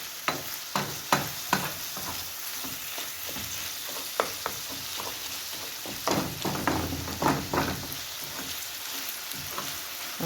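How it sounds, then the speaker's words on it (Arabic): Brik pastry frying in hot oil, a continuous close sizzle with irregular crackles and pops, plus occasional stirring or utensil clicks, no talking. "نخلوه يتقلى"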